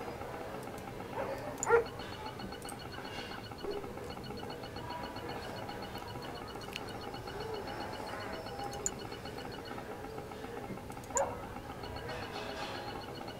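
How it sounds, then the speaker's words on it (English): In the Red Alert 3 video game, dogs bark faintly in a city map's ambient background: a few scattered barks and yips over low steady noise, quiet and distant. "Like dogs barking and pots and pans going off"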